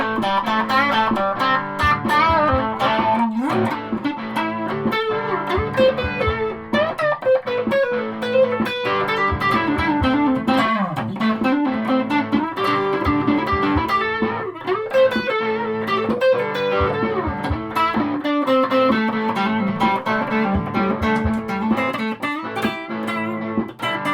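An electric guitar played through a Marshall Guv'nor mk1 distortion pedal, loud, continuous overdriven chords and melodic lines with thick sustained harmonics filling the whole passage without pause.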